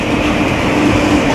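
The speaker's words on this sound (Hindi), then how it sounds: "ऐसे में जब इस ट्रैक से ट्रेन गुजरती है" A train rolls past on a railway track in flood-hit Muzaffarpur, a loud, close, continuous rumble with rhythmic clattering wheels and no voices.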